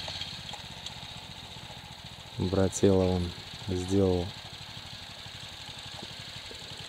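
A small homemade tractor with a bought engine idles steadily in the background of a potato harvest, a low continuous rumble while someone speaks briefly over it.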